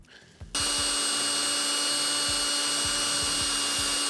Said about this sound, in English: The first thing you need to do is drill a hole.